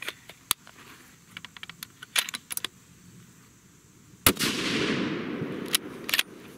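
A Sig Cross rifle in .308 Winchester fires Hornady 150 grain CX handloads, giving a sharp, loud report followed by a rolling outdoor echo, amid scattered clicks and handling noises before and after.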